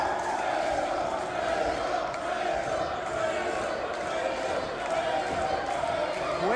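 A pro wrestling crowd at the COPAC cheers and chants loudly and continuously, a dense roar of voices with occasional rising shouts, while a commentator talks over it.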